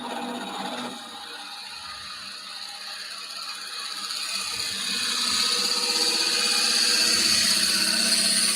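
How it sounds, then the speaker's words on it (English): A power drill whirs at a steady, high pitch, gradually growing louder and more strained as it bites into an epoxy resin vase with dried flowers, with no voices. "so I'm going to start drilling"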